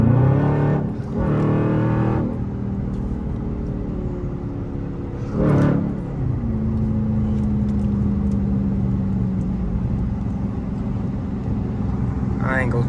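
A Dodge Charger Scat Pack pulls hard on a highway, its engine note droning steadily and loudly throughout with a brief rising surge midway; a voice speaks over it near the start.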